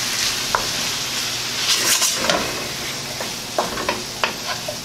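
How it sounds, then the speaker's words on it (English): Rinsed, drained cannellini beans are stirred in a pan with the heat just off, a utensil scraping and clinking against the metal in several sharp knocks over a soft fading sizzle. "Let's give it a stir."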